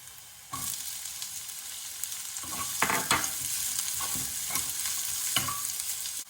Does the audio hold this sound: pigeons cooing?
no